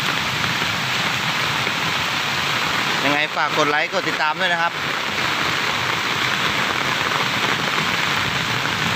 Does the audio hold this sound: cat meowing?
no